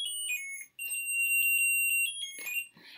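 An opened Christmas greeting card plays a thin electronic jingle of high beeping tones in a simple repeating melody, close and clear, with a brief pause near the start and rustling near the end.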